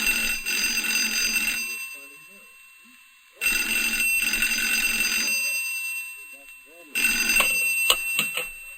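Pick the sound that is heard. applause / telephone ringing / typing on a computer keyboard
telephone ringing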